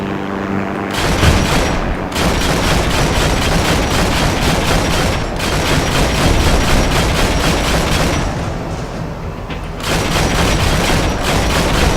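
Sustained gunfire and heavy booms in Heroes & Generals during a German Panzer I ausf A tank battle, loud and continuous over most of the stretch with brief lulls, and no talk.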